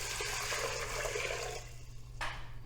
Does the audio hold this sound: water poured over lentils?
yes